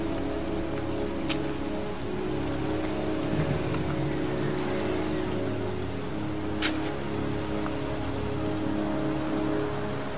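Steady pouring rain falls in a cemetery in the video game Heavy Rain, a constant dense hiss with a couple of faint sharp ticks, with no talk.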